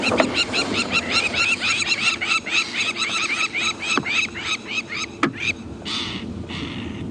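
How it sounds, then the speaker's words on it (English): Birds in the African bush at sunrise give loud, repeated harsh alarm calls, a rapid series of raucous squawks from a roller close by, with a couple of sharp knocks and quieter background calls near the end. "Some birds here shouting"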